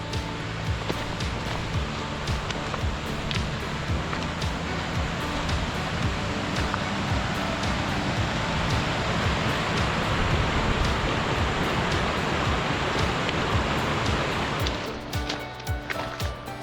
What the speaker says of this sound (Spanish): Llegamos aquí al río que forma la cascada